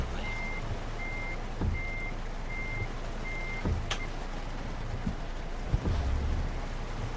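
In Euro Truck Simulator 2, a truck reverses with its warning beeper sounding in a steady series of evenly spaced beeps over a low engine rumble. Occasional clunks and a brief hiss are also audible, with no talk.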